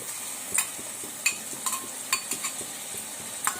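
Ginger garlic paste frying in a pan for chicken fry, a soft sizzle under repeated light spoon scrapes and taps at an uneven pace.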